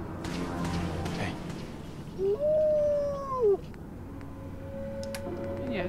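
Dog howling in Fallout 4, a single drawn-out, wavering howl lasting about a second and a half, rising then falling, heard over a quiet game ambience.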